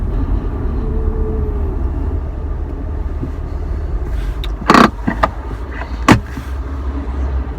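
A car with Alcantara seats and a start-stop system, on a test drive, gives a steady low rumble of engine and road noise throughout, broken by two short louder bursts late on; no one speaks.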